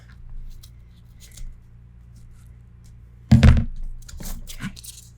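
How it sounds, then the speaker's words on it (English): Scissors snip through craft paper while pieces are trimmed for a Stamperia Savana mini album, giving a sharp cluster of close cuts and rustles after a quiet stretch. "I just eyeball it and cut to fit."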